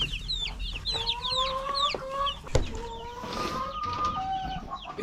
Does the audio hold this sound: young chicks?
yes